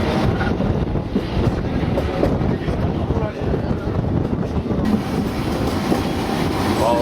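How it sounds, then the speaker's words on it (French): A diesel locomotive pulling a single passenger carriage runs through the northern Czech countryside, with a steady, close rumble and rattle under heavy wind buffeting. "Notre train est composé d'une locomotive diesel et d'une voiture voyageur."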